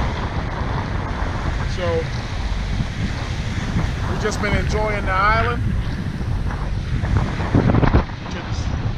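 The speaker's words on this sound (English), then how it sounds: "it is very, very rough, very windy." Heavy wind buffets the microphone over a rough, surging sea in the Bahamas, while someone speaks briefly through the roar.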